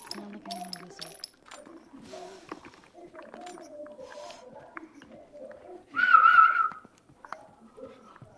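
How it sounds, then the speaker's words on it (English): Someone learning to whistle makes a few breathy, uneven attempts, with one louder, clearer whistled note near the end, amid people talking and scattered clinks. "I'm trying to learn how to whistle."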